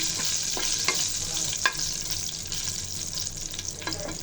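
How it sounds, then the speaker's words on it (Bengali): Dried red chillies fry in oil over low heat, a close, steady sizzle with several scraping stirs of a spatula against the pan. "এই তেলের মধ্যে শুকনো মরিচগুলো ভেজে নিব"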